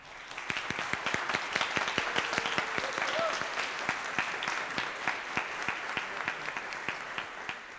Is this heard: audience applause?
yes